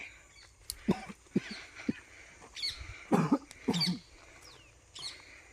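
Several separate coughs come at irregular intervals, some sharp and short, others rougher and drawn out, fairly close in a quiet room.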